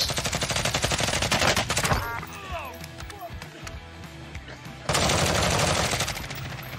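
Rapid automatic gunfire in Call of Duty Warzone, loud dense bursts for about two seconds, a quieter gap with scattered sounds, then another sustained burst of shooting.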